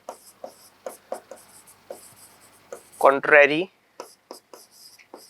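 Pen strokes scratch on paper in short repeated bursts, close and clear, as a maths solution is written out, with a brief stretch of talking in the middle.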